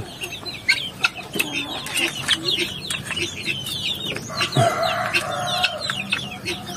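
Native chickens on a farm with young chicks cluck and chirp continuously, several birds calling close by in an overlapping, busy chorus with no talking.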